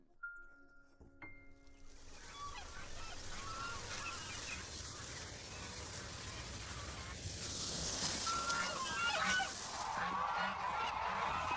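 A flock of geese honks continuously at a breeding farm, many overlapping calls near and far that swell louder toward the end, with no talking.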